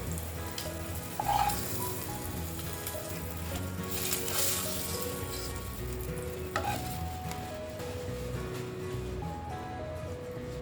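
Eggs fry in hot oil with turmeric and salt, giving a steady, close sizzle and crackle that runs without a break, with a few brighter pops along the way.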